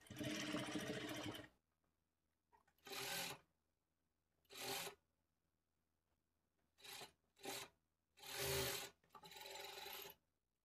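A sewing machine stitches a blouse edge in a series of short, whirring runs of varying length, separated by quiet pauses, close and clear.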